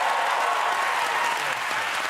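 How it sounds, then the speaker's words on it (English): Studio audience applause for a contestant on the Big Fat Quiz of the Year 2019 panel show: dense, steady clapping that holds at an even level throughout, with no voices over it. "Round of applause for this guy."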